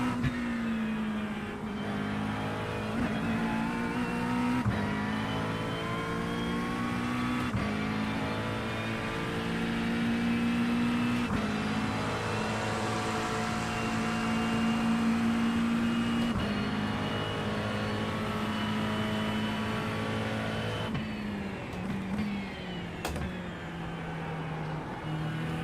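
A race car engine drones at Spa in the iRacing simulator, a sustained high whine that rises and shifts through gears with brief breaks for shifts, steady and fairly loud throughout, with no speech.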